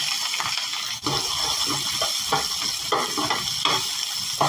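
Mustard seeds, fenugreek, green chili and onion frying in coconut oil for a brinjal milk curry, a continuous close sizzle with crackling pops and occasional stirring scrapes.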